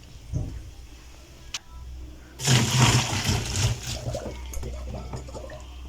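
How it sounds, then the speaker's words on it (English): Blanched courgettes are drained and rinsed under running cold tap water in a kitchen, a steady rushing, splashing flow starting suddenly after a few faint clicks and continuing to the end. "what you need to do is drain them and then run over cold water to stop the cooking process"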